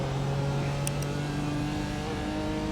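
BMW GT4 race car pulling away from the grid at Sebring in a racing video game, a steady engine drone that builds as it accelerates, continuous and prominent.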